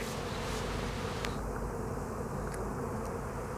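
A steady, dense buzz of many honeybees at an open hive entrance hums continuously, close by, with no voices over it.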